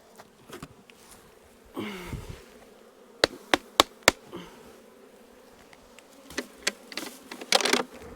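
Honeybees buzz and hum around a small double nucleus hive as more bees are added after a honey harvest, with scattered sharp knocks of the wooden hive and a brief louder burst of buzzing near the end.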